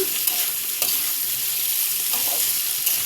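Tofu sautés in a hot pan for tokwa sisig, giving a loud, steady frying hiss with occasional stirring scrapes and small pops throughout, and no talk.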